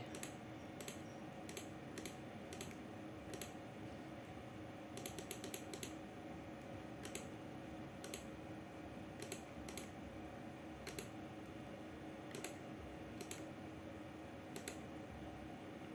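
Keystrokes on a computer keyboard while entering data into a desktop cashier program, sounding as sparse, irregular clicks with small quick bursts over a steady low room hum, with no one speaking.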